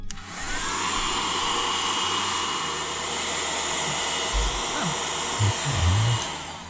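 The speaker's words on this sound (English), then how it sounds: "we're going to heat up this base and try to get that cover off" Heat gun or hair dryer heating the base of a snow globe to soften hot glue: a loud, steady, close blowing roar that runs the whole time, with faint low knocks and handling sounds beneath it.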